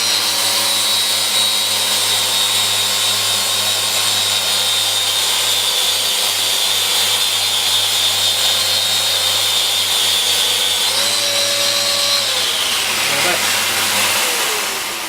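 A power sander works over rough sawn timber, running as a loud steady motor whine with a constant hum for about eleven seconds, then the pitch drops as it winds down and stops near the end.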